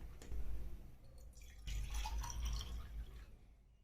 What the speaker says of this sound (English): now I am pouring some water into the glass